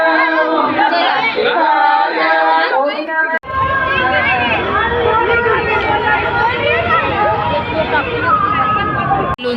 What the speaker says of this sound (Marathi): गर्दी बघा पूर्ण खालपर्यंत आहे.